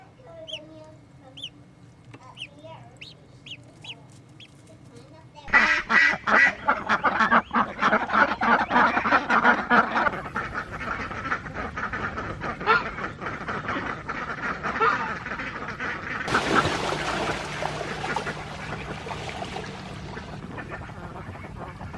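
A flock of ducks on a farm bursts into loud, overlapping quacking nearby, a busy chattering chorus that carries on for several seconds and then eases off.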